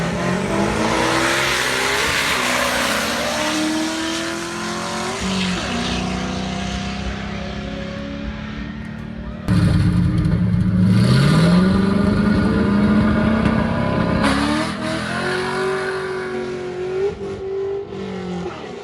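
Drag racing cars and trucks in Texas, including a fully built 6.0 truck, roar hard off the line and accelerate past, loud engines rising in pitch with one sharp surge midway and no talking.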